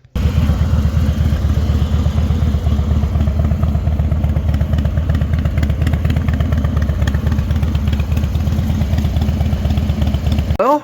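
A Harley-Davidson motorcycle engine runs steadily and loudly throughout, with a fast, even exhaust beat and mechanical clatter while riding, no voices present.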